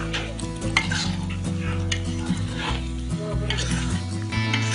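Soto Madura spice paste with lemongrass and kaffir lime leaves sautéing in a pan, a steady loud sizzle with stirring scrapes over a low background hum, no voice.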